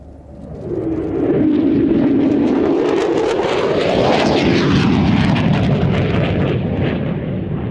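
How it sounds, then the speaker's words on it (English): A B-17G Flying Fortress bomber makes a low pass at the Cosford Airshow, its piston engines building into a loud, sustained roar that swells and shifts in pitch as it flies by. No voices are heard. "the B-17G Flying Fortress, Sally B."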